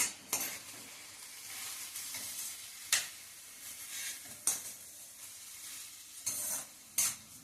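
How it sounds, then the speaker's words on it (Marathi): Washed rice sautéed in a pan while making Maharashtrian masale bhat; a soft, continuous frying hiss is broken by several sharp scrapes and clinks of a spatula against the pan, fairly quiet, with no talk. "हे तांदूळ पण एकदा छान परतून घ्यायचे"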